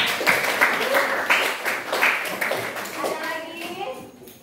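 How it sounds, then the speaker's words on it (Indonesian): A school class bursts into loud clapping, a burst of applause from many hands mixed with children's voices, tapering off toward the end. "Kasih tepuk tangan."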